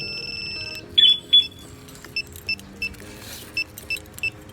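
A two-way car alarm system chirps in a series of short, high electronic beeps spaced at irregular intervals, with a few longer tones at the start.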